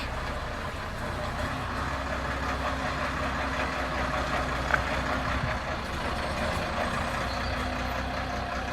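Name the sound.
truck manoeuvring and reversing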